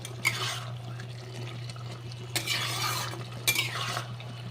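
Cooked bottle gourd greens stirred and mashed in a pan, with three bursts of wet scraping and squishing over a steady low hum, close by.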